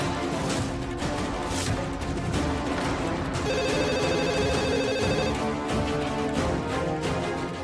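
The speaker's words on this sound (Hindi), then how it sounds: "पुलिस का फोन है, आना ही था।" Telephone ringing over a tense TV-drama scene, a steady electronic ring with even repeating tones mid-clip over a loud, busy background score.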